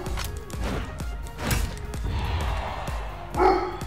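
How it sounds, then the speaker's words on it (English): A pet dog barks indoors in a few sharp, irregular woofs, fairly close, amid household noise during online gameplay. "I'm not sure if you can hear my dog"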